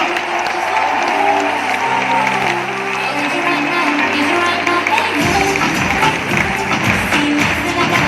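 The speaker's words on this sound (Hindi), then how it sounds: "तो जितनी बड़ी अचीवमेंट होती है ना, उतनी बड़ी तालियां भी होनी चाहिए. जोरदार तालियां." Loud audience applause at a business achievement event, dense clapping from a large crowd with some tapping and low rhythmic background music underneath, a voice briefly heard amid the noise.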